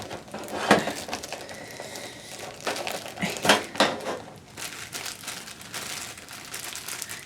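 Plastic bag crinkling during the unboxing of a Spelunky collector's edition, close-up rustles and crackles in irregular bursts, with louder crumples every second or so.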